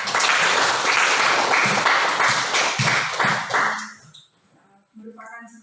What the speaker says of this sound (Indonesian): Terima kasih dan berikan tepuk tangan.